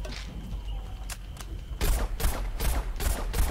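Single-shot sniper rifle fire from the Plants vs Zombies Garden Warfare video game, a quiet stretch with faint ticks followed by a run of loud separate shots in quick succession.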